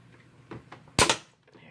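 Scissors cut through a plastic clip with a single sharp, loud snap, preceded by a few faint handling rustles and followed by quiet.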